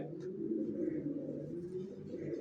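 Racer pigeons cooing in low, soft, rolling tones, a continuous murmur of several birds close by, with no talking.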